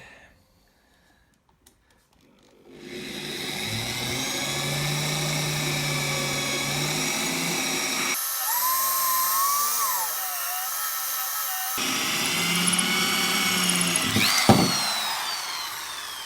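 A power drill bores a hole into hardened cement of a homemade flower pot, starting after a short quiet pause with a steady loud whine that changes pitch as it cuts, briefly stopping and resuming, alone without talk.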